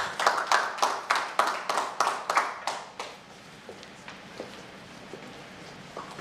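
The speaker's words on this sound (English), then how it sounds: "Let's give him a big round of applause, please," A burst of audience applause, dense clapping for about three seconds that quickly thins to a few scattered claps and taps.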